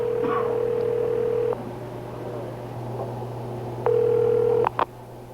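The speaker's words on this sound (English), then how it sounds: "Tony places the call to the pay station number" A telephone call placed to a pay phone number: a steady dial tone, a pause, then another tone followed by a few quick dialing beeps, close and clear with no talking.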